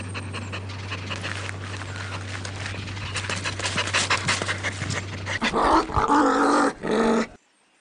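A puppy pants rapidly and close up over a steady low hum, then breaks into a few loud, rough growls and yips before the sound cuts off abruptly.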